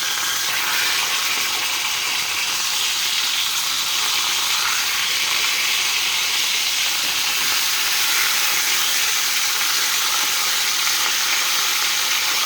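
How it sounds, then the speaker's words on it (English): Loud, continuous sizzling of pork chops frying in a hot pan, a steady dense hiss filling the whole clip with no talking. "Sorry for all the sizzling."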